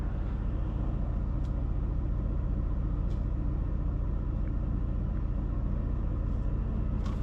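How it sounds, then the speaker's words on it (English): A 2020 Mercedes-AMG GLC 63 V8 engine drones steadily while driving, a continuous low rumble heard from inside the cabin with no pauses or changes in pace. "And that V8 sounds phenomenal."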